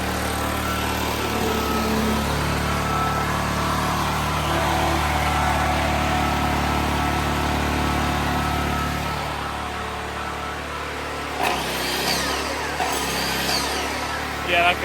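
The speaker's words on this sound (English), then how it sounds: "I think that compressor is full." A junk-salvaged air compressor runs loud and steady for about nine seconds, its motor drone filling the space, then cuts off; a person briefly talks in the quieter tail.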